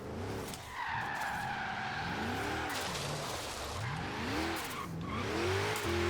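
Tires skidding with almost no grip on a drift-built Jeep in the Forza Horizon 3 racing game, a continuous squealing slide with swooping pitch bends over a steady engine drone.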